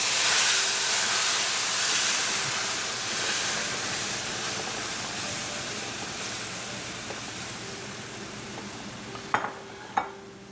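Milk poured into hot almond flour and semolina cooked in desi ghee on low heat gives a steady, loud hiss and sizzle that slowly eases, ending with two sharp clinks of a utensil against the pan.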